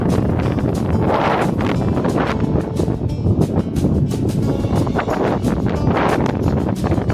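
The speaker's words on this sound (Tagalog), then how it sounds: "Sarap ng hangin." Strong wind gusts buffet the microphone in a steady, rough roar with surging peaks on Sunset Peak, Hong Kong, with no other sounds standing out.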